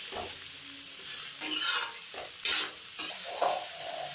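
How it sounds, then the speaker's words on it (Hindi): Bitter gourd (karela) sabzi with salt is stirred in a pan, with several distinct scraping strokes over a soft, close sizzle and no voices. "अब हम अच्छे से चला देंगे"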